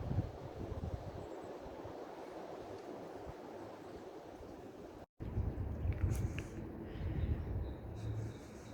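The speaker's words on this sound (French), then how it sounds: "Il y a peut-être du vent, vous voyez." Wind blows through a garden in a steady broad rush, roaring into the microphone, with a brief cut midway and some faint rustles and knocks afterward; no one speaks.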